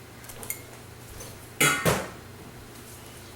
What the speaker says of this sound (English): Okay, we give this a quick stir.